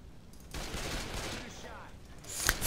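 Rapid bursts of gunfire from the video game Left 4 Dead 2 as zombies are shot, with sustained automatic fire that swells and then grows louder toward the end.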